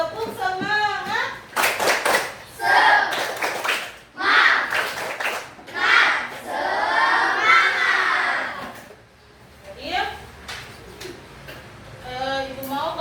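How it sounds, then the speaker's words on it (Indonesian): Classroom children do a rhythmic spirit clap cheer for their teacher, sharp group claps landing in quick patterns between bursts of chanted, shouted young voices, close and lively throughout. "Coba tepuk semangat."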